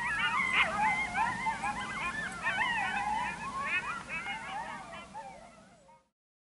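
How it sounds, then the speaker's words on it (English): A pack of coyotes howling and yipping in the distance in Death Valley, a chorus of wavering, overlapping wails that rises, fades and cuts off, heard outdoors over a faint low background. "hear these coyotes howling in the distance"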